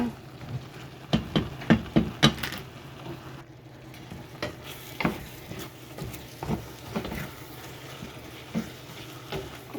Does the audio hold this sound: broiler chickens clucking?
no